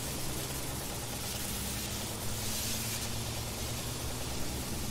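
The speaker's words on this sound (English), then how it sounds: "We're gonna spray the whole thing really good because the fire was moving around kind of crazy up there" A fire hose pours water onto a garage fire at night, a steady roaring hiss that continues without a break, mixed with a low engine rumble and no voices.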